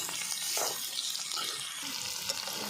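Ivy gourd frying in a pan as it is stirred, a steady close sizzle with scraping stir strokes running through it.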